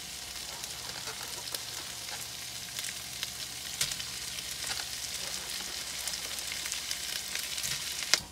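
Sausages sizzle in a skillet alongside reheated, already-cooked potatoes, a steady close crackling hiss with brief clinks of stirring scattered throughout and no voices.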